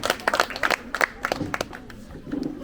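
Students clap in a school classroom, a loose burst of uneven applause from a small group that thins out and then picks up briefly. Voices mix in underneath.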